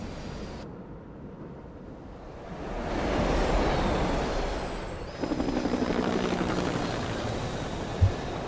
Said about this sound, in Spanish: Lo que nos faltaba, un helicóptero.